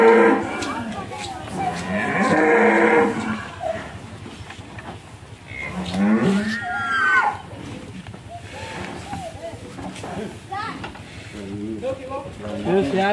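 Several loud, drawn-out moos from large cattle, close by, separated by pauses, with voices talking quietly between them.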